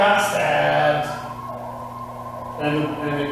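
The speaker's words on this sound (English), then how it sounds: "it's an ambulance. Yeah, okay, it's moving away." An ambulance siren wails steadily in the background, rising and falling while gradually receding into the distance, heard beneath ongoing conversation in a room.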